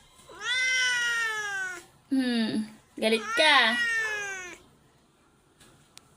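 A cat scratched up from fights with other cats gives several loud, close, drawn-out meows in quick succession, with a person speaking briefly between them.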